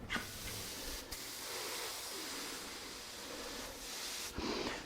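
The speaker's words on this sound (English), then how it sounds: "When I spray this," A spray gun applying wood finish in a woodworking shop gives a steady, soft hiss that runs for several seconds, with faint bumps and handling noises near the start and end.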